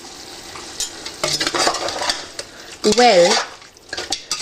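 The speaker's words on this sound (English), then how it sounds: "keep stirring the pot" A spoon scrapes and clinks around a pot of Indian meat curry with spices, a busy, uneven stirring clatter, close up, with a sizzling background and a brief spoken word.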